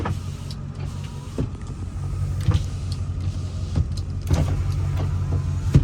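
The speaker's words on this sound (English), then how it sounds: "And if your windows all work." Electric power windows run on a 2002 Ford Excursion Limited Ultimate with a 7.3L Powerstroke diesel, a steady motor whir alongside a low vehicle hum, with a few clicks and thumps as the glass stops and starts.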